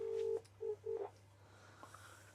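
A phone gives three short electronic tones in a steady, evenly spaced pattern against a faint low hum, then goes quiet apart from light background noise.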